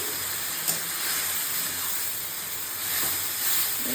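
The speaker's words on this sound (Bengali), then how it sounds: "ভালো মতো কষিয়ে নেব" Spice paste with tomato and ground spices fries in a pan, giving a loud, steady hiss and sizzle that holds for the whole stretch, close up, with no talking.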